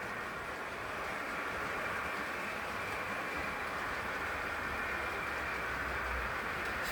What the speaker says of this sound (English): the HST is just coming